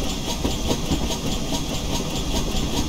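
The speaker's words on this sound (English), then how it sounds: "Idle sounds, pretty typical of most of the other GWR locomotives available." A GWR steam locomotive idles in the Train Sim Classic game, giving a loud steady hiss of steam with soft rhythmic chuffing pulses and a low rumble underneath, no talk.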